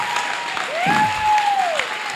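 A crowd claps and cheers at an open bouldering championship, steady applause close and moderately loud, with a whistle-like tone sweeping across the middle amid scattered voices.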